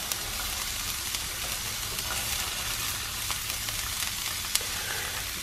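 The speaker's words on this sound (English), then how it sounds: "In the pan goes onions. And also the white parts of the green onion." Chopped onions and the white parts of green onions fry in a pan inside a van, giving a steady, dense sizzle that runs unbroken and close, with no talking.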